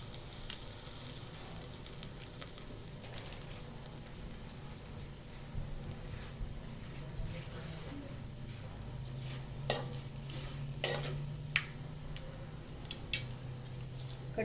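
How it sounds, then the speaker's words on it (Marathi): Curry leaves drop into hot oil for tempering masale bhaat, giving a steady crackling sizzle with sharper spits and pops toward the end, close and moderately loud with no talking. "कढीपत्ता टाकूया"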